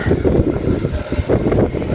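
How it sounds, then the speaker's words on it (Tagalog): Strong wind buffeting the microphone in a continuous low roar, loud and close, with gusts swelling and easing throughout. "Ayan o, napakalakas po ng hangin."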